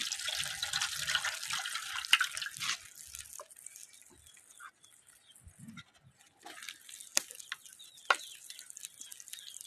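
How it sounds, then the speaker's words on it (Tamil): Water splashes and trickles into a pot of tilapia fish curry being cooked the village way. Bursts of pouring are followed by quieter drips, with a short pause in the middle. "இதுலேயே கொஞ்சம் தண்ணி ஊற்றிக்கலாம்"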